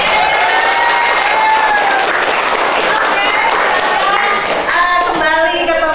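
A class claps loudly and energetically in a classroom, a dense burst of hand clapping close by, with children's excited voices and cheering mixed in.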